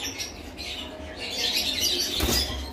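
Caged pet conures, red-eyed birds kept together, rustle and flap their wings with scattered chirps and squawks over a steady close background hiss.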